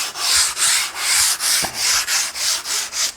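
A 120-grit sanding block, held at about 45 degrees, rubs along the edge of a cast concrete outdoor kitchen counter in quick back-and-forth strokes, about nine rhythmic scrapes in three seconds, close and loud.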